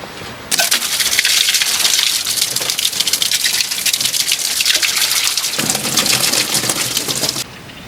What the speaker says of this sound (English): hose all that antifreeze off of there